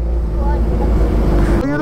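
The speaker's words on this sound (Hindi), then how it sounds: "आवाज कैसी आ रही है बाइक की" A 2023 Suzuki Hayabusa motorcycle engine runs close by with a loud, steady, droning rumble that holds for the whole moment before tapering slightly at the end.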